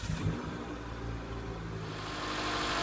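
Mitsubishi Lancer ES with a 2.0-liter four-cylinder engine idling, a steady mid-pitched engine hum with low rumble that stays fairly even and swells slightly toward the end, heard up close without talk.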